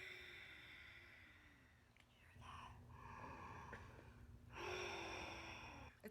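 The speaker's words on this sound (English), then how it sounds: "The breathing is called ujjayi breathing, and it really is supposed to be through your nose, through the back of your throat." Ujjayi yoga breathing drawn through the nose and back of the throat gives a soft, hoarse, ocean-like rush, repeated in a few faint, close breaths.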